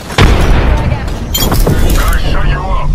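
A frag grenade goes off in Apex Legends as one loud, close boom with a sharp crack, followed by a rumbling tail under continuous game noise and a voice speaking throughout.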